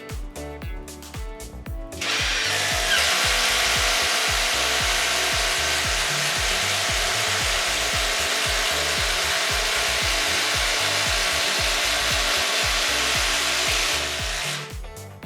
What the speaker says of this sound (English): we've got a little 3/4 inch Irwin speed bore bit. We're gonna do it in our 4x4 non-pressure treated wood